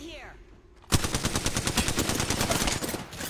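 Rapid automatic gunfire in a shooter video game, a sudden burst of dense, evenly spaced shots that starts after a quiet moment and keeps going to the end, close and loud.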